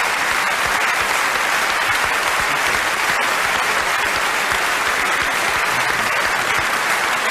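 Dense, loud studio audience applause from the German TV show Wetten Dass..? fills the whole stretch as an even, unbroken roar of many hands clapping, without pauses or speech.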